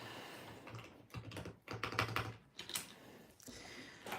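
Keys clatter steadily on a computer keyboard at a desk during a relaxed work session, in quick irregular bursts with brief pauses, close and moderately loud.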